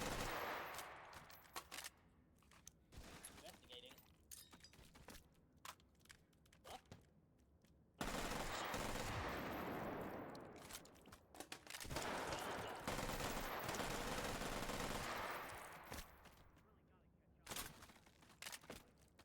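Rapid bursts of sci-fi arm cannon fire from a video game, loud and sustained with dense crackling blasts, briefly pausing before resuming in heavy volleys.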